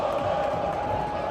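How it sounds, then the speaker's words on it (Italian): Brazilian fans roaring in the stands of a FIFA Club World Cup football match just after a goal, a steady wall of distant crowd cheering with no break. "Delirio ora nelle tribune occupate dai tifosi brasiliani"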